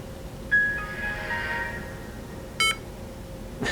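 A short electronic tone followed by a brief chime-like beep, both clear against a quiet hum, from an Averatec 1000 Series laptop running Windows as it shuts down.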